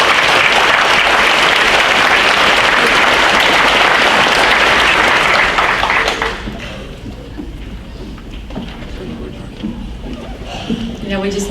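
Honors night audience applauding transfer students, a loud, dense wash of clapping for about six seconds that drops to a quieter tail with sparse claps and faint voices.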